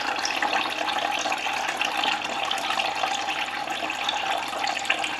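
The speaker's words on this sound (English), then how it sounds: "so now all the coolant's draining out of that" Coolant from a Kawasaki ZZR1400 runs out of the reservoir bottle's bottom hose in a steady, continuous splashing trickle, close and unbroken, with no talk.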